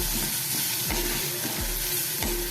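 Salted onions sauté in a pan, giving a dense steady sizzle with a few slow, evenly spaced stirring scrapes.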